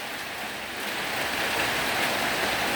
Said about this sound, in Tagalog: Ang lakas-lakas ng ulan guys.